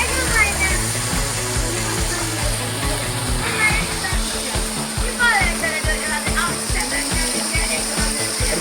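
A stream of water runs through medicinal plants along the Gavi route, producing a steady rushing and splashing flow that continues throughout, with some voices and other sounds mixed in.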